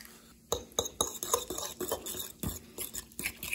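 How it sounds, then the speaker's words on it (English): A fork whisks egg and chopped broccoli in a bowl, producing a close run of quick, irregular clinks and scrapes against the dish with no talking. "you get a fork. The fork gives it a really nice mix."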